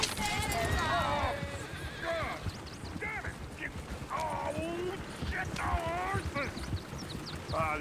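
Horse hooves clip-clop steadily on a road in the Red Dead Redemption 2 video game, with occasional whinnies and voices talking over the continuous, fairly loud hoofbeats.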